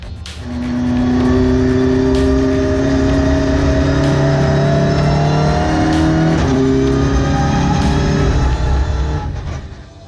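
A Volkswagen Ameo Cup race car with a 1.8-litre 205 bhp engine, slick tyres and race-spec suspension, droning loudly on a track, its engine pitch climbing steadily through the gears with a brief dip at a shift, heard up close.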